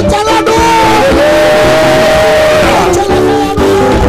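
Church congregation cheering and shouting praise to the Lord, a loud dense crowd of voices with whoops and yells, sustained throughout with brief dips.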